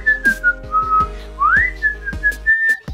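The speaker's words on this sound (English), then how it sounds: "Okay, I can whistle." A person whistles a short tune up close, clear and loud, gliding between held notes with brief breaths between phrases and no speech over it.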